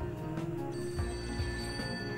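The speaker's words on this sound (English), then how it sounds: "Is the phone ringing again? It is." A telephone bell rings in the Serial Cleaner video game, repeated trilling bursts over a steady background of game music, fairly loud and with no voices.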